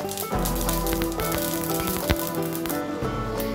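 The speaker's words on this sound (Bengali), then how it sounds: "এর মধ্যে দিয়ে দিলাম সর্ষে ফোড়ন" Mustard seeds sizzle and crackle in hot oil for tempering a Bengali vegetarian dish, a dense steady spattering with scattered pops, close and fairly loud.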